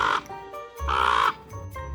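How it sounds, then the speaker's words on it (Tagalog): A crow, a dark bird perched on a pole by a quiet road at sunset, gives a few loud harsh caws in a rough repeating rhythm, close and clear with no talk over them. "Isa itong uwak."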